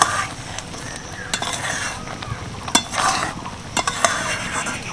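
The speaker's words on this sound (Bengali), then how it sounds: "ভালো করে মিশিয়ে নিই আচারের মধ্যে" Spiced hog plum (amra) pickle is stirred in a pan, a spoon scraping and tapping the metal in irregular strokes over a low sizzle, close and moderately loud with no voices.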